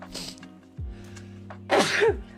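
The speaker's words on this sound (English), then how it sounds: "Sneezes." A single sharp human sneeze near the end, loud and close, after a quieter breathy intake and a small throat sound, with music or background hum beneath.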